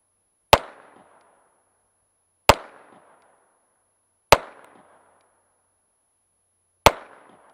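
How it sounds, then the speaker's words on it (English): A Ruger SR22 .22 pistol fires four single gunshots at irregular intervals, each a sharp close crack followed by a short decay, with quiet in between. "All right, let's do some more shooting."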